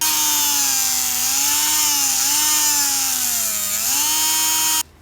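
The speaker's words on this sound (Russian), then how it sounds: "И теперь в них нужно будет засверлить отверстие вот здесь вот по центру." A small power drill bores a centred hole about 7 mm deep into a small wooden part, a loud steady whine that dips in pitch under load for about five seconds and then cuts off.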